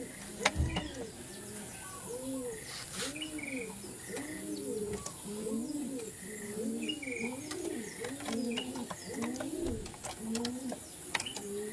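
Pigeons cooing in a steady, repeating series of soft, rolling calls at close range, with faint chirps and insect noise behind and a couple of brief knocks.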